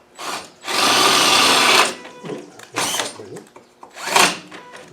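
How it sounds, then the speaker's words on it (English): A power drill drills out a hole at an existing rivet nut, a sustained whirring grind for about a second and a half, then shorter bursts and a final spin-up, with someone talking around it. "so let's drill that hole out."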